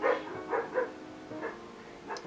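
A dog gives a few short, soft barks and yips spaced through the moment, fairly close but not loud, with no talk over them.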